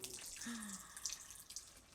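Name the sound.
pouring water into unleavened bread ingredients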